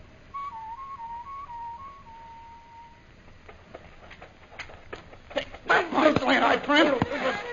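A person whistles a short, warbling call imitating a night bird in a jungle adventure series, a quick run of notes then a held tone, followed by ticking and a voice.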